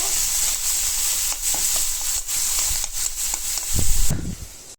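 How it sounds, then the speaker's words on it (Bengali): Shrimp fry with onion in a pan for a taro-root shrimp dish, giving a loud, steady sizzle broken by repeated stirring scrapes and a louder burst near the end. "পেঁয়াজের সাথে চিংড়ি মাছটা ভাজা ভাজা করে নিব"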